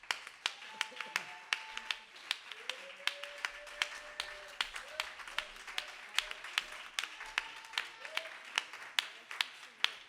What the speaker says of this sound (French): On va apporter une acclamation au Seigneur.